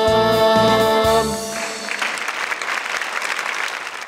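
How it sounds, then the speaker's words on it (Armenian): As a live song ends, the final chords give way to an audience applauding the musicians and singers, steady clapping from many hands that rises and continues to the end. "Ձեր ծափարությունները մեր երաժիշտերին և երգիչներին"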